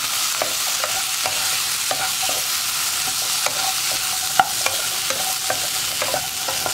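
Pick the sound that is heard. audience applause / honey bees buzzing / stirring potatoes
stirring potatoes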